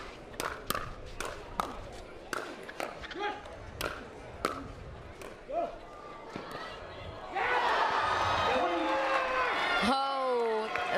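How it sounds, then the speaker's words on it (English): Paddle pops echo across a professional pickleball court at the MLP San Clemente 2023 challenger final, then a loud crowd reaction swells in with gasps and groans that linger while a commentator speaks. "The crowd gasping at that miss"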